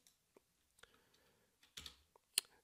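A few soft, scattered keystrokes tap on a computer keyboard, very quiet and close, with short gaps between the clicks and no talking.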